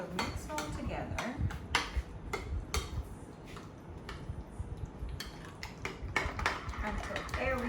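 Ingredients being mixed in a bowl for an immune-boosting recipe, with repeated clinks and scrapes of a utensil against the dish in an irregular rhythm, fairly close, with some talk around it.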